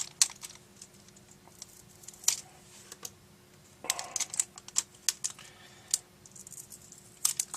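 Rubber domes from a Gemstik joystick being pressed on a table, giving a scatter of soft, irregular clicks and taps, fairly close and quiet, with brief denser bursts and no talking.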